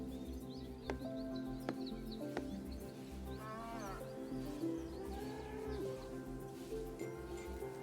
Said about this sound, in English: There's definitely like cow noises now.